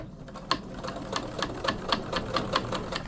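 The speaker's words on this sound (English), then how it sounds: "we'll put our machine back on our straight stitch" A sewing machine runs a straight stitch along the edge of a dollar-store silicone dish mat, its needle thumping in a quick, steady rhythm for about three seconds, close and fairly quiet with no talking.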